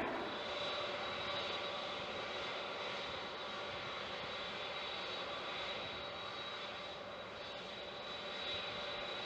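A large US military cargo plane making a steep short takeoff, its engines producing a steady broad roar that holds level throughout, with no voices.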